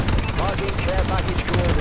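A friendly bombing run rages in Call of Duty: Advanced Warfare, a dense, continuous wall of rapid blasts and gunfire-like bursts with faint voices weaving through the noise.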